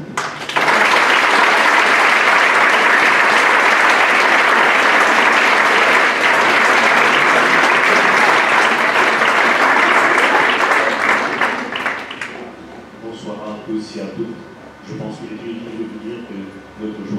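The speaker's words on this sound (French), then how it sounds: "Je vous prie d'accueillir sous applaudissements." A conference audience gives loud, sustained applause to welcome a speaker, a thick roar of many hands that runs for about twelve seconds before fading into quieter talk and room noise.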